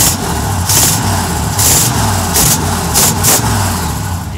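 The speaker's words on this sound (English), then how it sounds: "How do you like that exhaust leak?" An Oldsmobile 98 engine running in a parking lot with a leaking exhaust, a loud low rumbling idle broken by repeated sharp hissy puffs, no talk.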